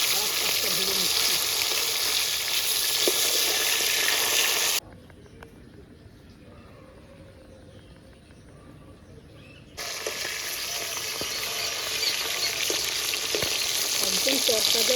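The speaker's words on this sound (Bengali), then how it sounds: "মাছটা এক পাশ ভাজা হয়ে গেছে, বেশি ভাজবো না, হালকা করেই ভাজবো। আর এক পাশটা ভেজে নিচ্ছি।" Fresh parse fish fry lightly in a pan with a bright, constant crackling sizzle. The sound drops to near silence for a few seconds midway, then returns just as strong.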